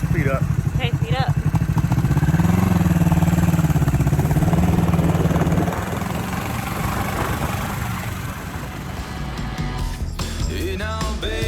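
A vintage Honda CB450 motorcycle engine rumbles close and loud while riding, its pitch wavering then settling lower after a few seconds, with people talking over it.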